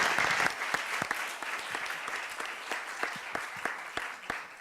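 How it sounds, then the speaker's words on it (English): Audience applause at a conference session on creativity in art, design and science: a few separate, sharp claps stand out over a softer, continuous patter of clapping from the crowd. "please join me to give him a round of applause again"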